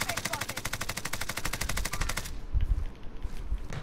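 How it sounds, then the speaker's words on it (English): Rapid automatic gunfire in the Warzone video game, a dense, loud, evenly spaced burst that cuts off abruptly, followed by rumbling lower booms and background noise. "Keep shooting at them."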